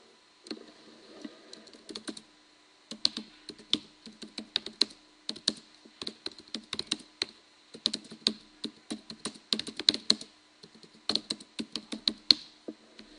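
Rapid clattering keystrokes on a computer keyboard come in irregular bursts with short pauses, close and moderately loud, with no voices over them.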